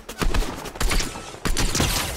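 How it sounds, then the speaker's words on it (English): Rapid bursts of video game gunfire from Fortnite's Zero Build duos mode crackle loudly in clustered volleys, three main bursts separated by brief gaps. "Somebody's shooting at me and I don't know where."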